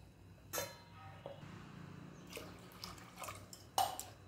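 Water added to soaked, sprouted horse gram in a pressure cooker, heard as a few quiet, separate splashes and drips against a faint background.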